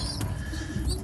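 Young racing pigeons in a loft cooing: soft, low, overlapping coos with a faint chirp or two, close and continuous over a short stretch, with no voices.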